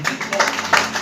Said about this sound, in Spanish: Dar un aplauso al Señor de gloria.